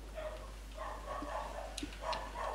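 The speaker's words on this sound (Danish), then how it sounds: "Jeg beklager lige, min hund gør helt vildt lige nu." A dog barks several times indoors, a fairly close series of sharp, excited barks and yips with short pauses between them, while a steady low hum runs underneath.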